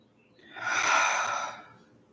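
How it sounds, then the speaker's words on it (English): One long, slow breath during a quiet meditation, swelling gently and then fading, soft and close with no other sound around it. "steady breathing."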